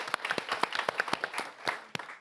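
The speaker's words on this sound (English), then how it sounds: "Last round of applause." A small audience at a youth summit gives a short round of clapping, a thin, uneven patter of individual claps close by that thins out toward the end.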